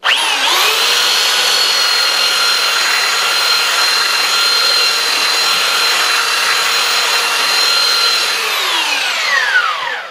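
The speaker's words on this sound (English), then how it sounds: "So these little sanders work really, really well." A small handheld power sander works across wood with coarse-grit paper during sign carving, a steady, loud, high whining buzz that runs unbroken for about ten seconds before winding down at the end, with no talking.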